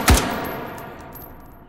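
A single loud gunshot from a firearm in the VR shooting game H3VR, a sharp close crack at the start followed by a long fading reverberant tail.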